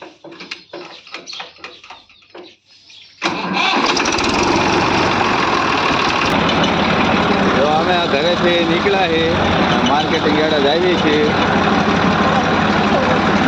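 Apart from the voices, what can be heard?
tractor engine running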